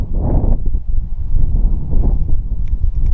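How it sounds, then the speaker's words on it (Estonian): A light breeze blows at the rim of the Grand Canyon, gusting as a low rumble against the microphone with no voices. "Kerge tuulekene mängib."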